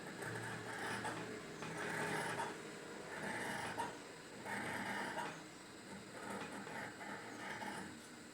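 Scissors snipping through blouse fabric on a cutting surface, a steady series of soft crunching cuts in repeated bursts, close and moderately loud, with no talking.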